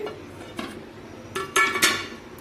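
A lid is lifted off a pan of steamed rohu fish in a home kitchen, giving a few sharp metallic clinks and clatters, loudest near the end, with no talk.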